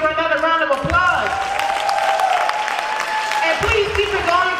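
Steady clapping from a poetry event audience for the poet Courtney fills the room, mixed with whoops and voices shouting over it.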